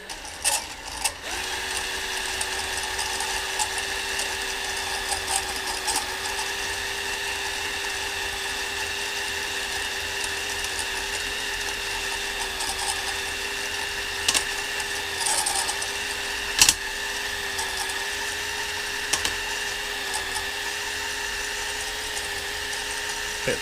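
Hone stones spin inside an oiled Hayter lawnmower engine cylinder, giving a continuous close mechanical whir with a steady tone and occasional small clicks, no voices.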